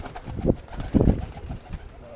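Pigeons coo at a pigeon sales loft in Bangalore, giving a few low, soft bursts spaced about half a second apart over a faint, busy background murmur.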